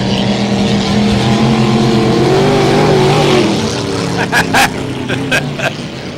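Roaring vintage racing boat engines in a race heat drone loudly, a deep sustained rumble rising in pitch, with a voice talking over it and a few sharp clicks near the end.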